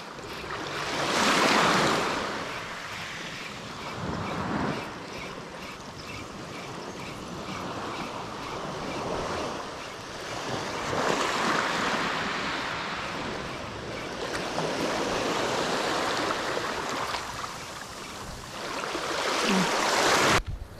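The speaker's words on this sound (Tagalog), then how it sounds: "Malaki yung gulong ng alon." Big ocean waves roll and crash in repeated surges during a storm at sea, with rushing water and wind noise buffeting the microphone between the breaks.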